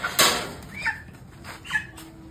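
Chickens and a rooster in a chicken shop: a sharp nearby squawk up front, then a few separate clucks and short calls spaced apart over a low background hum.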